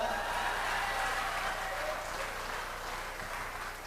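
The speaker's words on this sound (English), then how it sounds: "You're supposed to clap for that." Audience applause at a 1999 comedy show, a dense steady wash of clapping from many hands that holds throughout and tapers slightly at the end.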